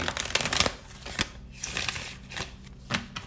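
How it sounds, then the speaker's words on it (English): A tarot deck is shuffled by hand at close range, giving quick papery riffles and soft slaps of cards in irregular bursts, with no talking. "I wanted to shuffle for you guys so you could see it."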